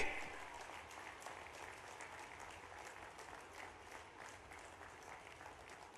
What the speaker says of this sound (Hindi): तालियों की गड़गड़ाहट से उनका स्वागत किया जाए